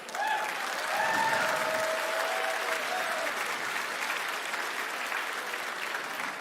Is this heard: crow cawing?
no